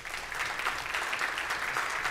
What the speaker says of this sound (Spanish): Por favor, un fuerte aplauso para el subsecretario Uriel Márquez Carrasco